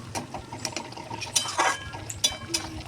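Spice paste stirred and fried in a pan for a chicken curry, with repeated scraping and clinking of a spoon against metal and a soft sizzle, close and steady, with no talk.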